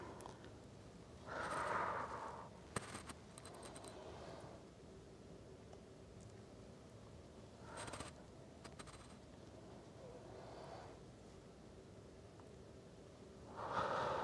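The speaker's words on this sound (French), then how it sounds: "on prend 5 grandes respirations" Slow, deep breathing during a yoga session, with several long inhales and exhales spaced a few seconds apart over a quiet background, no talking.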